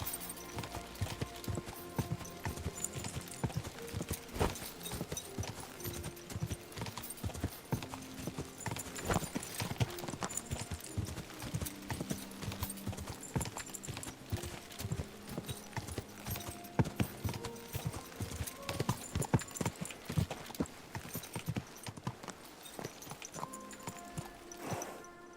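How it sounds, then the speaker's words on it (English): Horse hooves clip-clop steadily in Kingdom Come Deliverance II, a continuous close rhythmic trotting that runs throughout with no talking over it. "My, what a beautiful horse."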